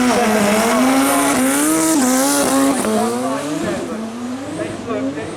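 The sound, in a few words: Suzuki Hayabusa Turbo 1298 racing at Brighton Speed Trials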